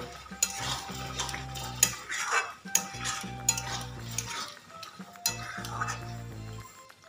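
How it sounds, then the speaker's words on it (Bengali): Paneer, capsicum, tomato and green chilli being stirred and fried with spices for a bottle-gourd paneer curry, a spoon scraping and clinking against the pan in repeated strokes over a steady close sizzle, with a low musical bed underneath. "এবার এগুলো দিয়ে মশলার সাথে কিন্তু আমি একবার ভালো করে কিন্তু কষিয়ে নেব"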